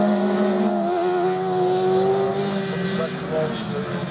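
Autograss race cars at Blyton, the 70 and 36 cars colliding on the dirt track, with loud steady engine drone and harmonic whine throughout while a commentator talks over the noise.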